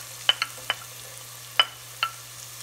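Onion cooks in a pan for goat kaldereta. Five or six sharp utensil taps and scrapes stand out over a faint sizzle and a low steady hum, close and fairly quiet.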